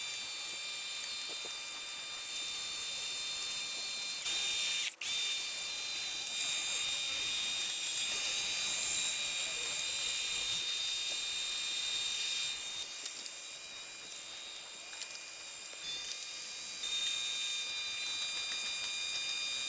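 A steady high-pitched mechanical whine runs throughout, with a brief dropout around the middle, from a small 1,800 PSI electric pressure washer cleaning a lawn mower deck close by.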